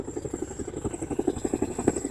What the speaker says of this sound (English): of this helicopter. It's going to be coming in right over here, right to my left shoulder. It is super loud.